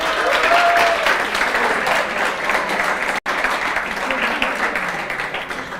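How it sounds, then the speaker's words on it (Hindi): Loud, sustained clapping from a class during a CA Foundation law revision lecture, a thick continuous burst filling the whole stretch with one brief dropout midway. "एक बार जोरदार तालियां आप सब लोगों के लिए"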